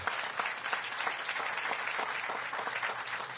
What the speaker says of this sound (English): I want us all to give Mayor Muriel a round of applause